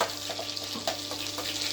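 Vegetables frying in oil and butter in a heated pan, a steady close hiss and crackle with no voices.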